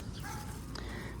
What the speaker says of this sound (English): the neighborhood dogs are all talking now